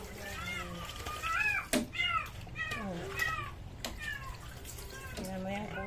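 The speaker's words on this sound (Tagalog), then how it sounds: "Tingnan mo yung pusa." A cat meows repeatedly, close by, with several distinct rising-and-falling calls at irregular intervals over a low background hum.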